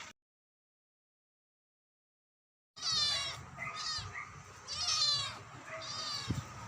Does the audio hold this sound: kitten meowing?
yes